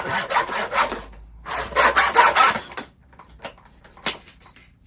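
An old saw blade cuts through wood in brisk back-and-forth strokes, coming in two loud bursts. Scattered scrapes follow, then a sharp crack near the end.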